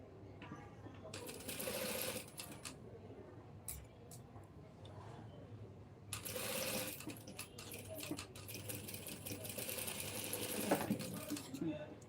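Sewing machine stitching a blouse, quiet bursts of rapid mechanical whirring and ticking that start and stop, with someone talking softly between and over the runs.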